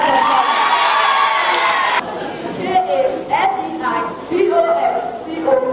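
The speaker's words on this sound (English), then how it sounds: "A round of applause for him." Audience applause at a local-government spelling bee: a dense, loud burst of clapping and cheering for about two seconds, then crowd chatter and children's voices carrying on underneath.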